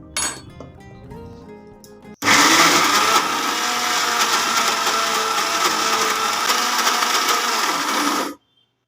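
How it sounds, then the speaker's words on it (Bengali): Red lentils being ground to a paste in a mixer grinder: after a brief quieter lead-in, the motor kicks in with a loud, sustained whirring roar that runs steadily for about six seconds, then cuts off abruptly. "আমি মোট 3 বার এইভাবে ঘুরিয়ে ডালটাকে বেটে নিয়েছি"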